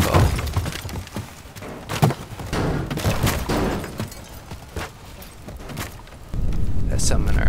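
Explosions in the destruction game Teardown go off as a rapid cluster of loud booms, cracks and shattering debris, with rumbling between blasts and a heavy roar building near the end.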